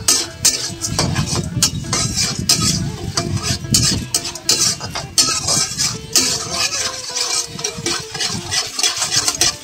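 Mung dal is fried and stirred in a pan until it turns reddish. Scraping stir strokes and clatter ride over a steady sizzle, close and fairly loud throughout.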